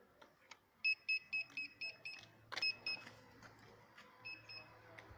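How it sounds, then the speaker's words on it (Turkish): Repeated electronic beeps from a car parking sensor in short regular bursts, a steady series then a pause and more beeps, with faint background noise and a low hum. "şu an sesi duyuyorsunuz. Bip bip bip sesini duyuyorsunuz."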